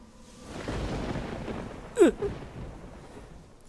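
A lightning strike with a sharp crack and rumbling thunder in an anime-style dating game, a sudden loud burst over a low background rumble, then fading.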